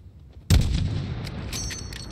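A single heavy artillery shot booms in Call of Duty: Modern Warfare (2019) as it fires on a target, a sudden loud blast followed by a long rumbling decay with no voices.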